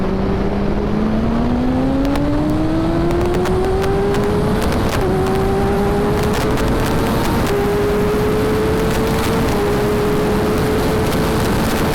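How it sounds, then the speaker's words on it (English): A BMW S1000RR sport motorcycle accelerates hard from 40 mph in second gear, its engine note climbing steadily in pitch under loud wind roar, heard from the rider's position with no talking. "We're about to do a second gear pull"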